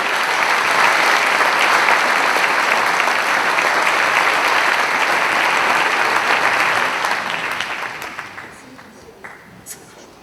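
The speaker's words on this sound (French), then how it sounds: "je pense que vous pouvez les applaudir pour les encourager" A hall full of people at a town's 2020 New Year's greetings ceremony in Guérande gives sustained, loud, even applause that holds for several seconds before tapering off into a few last stray claps.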